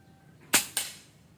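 Air rifle shot fired through a Neo GNT version 2.0 suppressor, heard as a single sharp close crack followed a split second later by a second, softer pop, then quiet.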